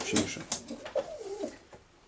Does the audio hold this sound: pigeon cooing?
yes